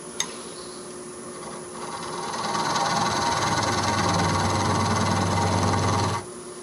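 A spindle gouge rasps against an elm and walnut bowl spinning on a wood lathe, a steady broadband scraping with a low motor hum that swells in after a couple of seconds, holds loud, then cuts off near the end.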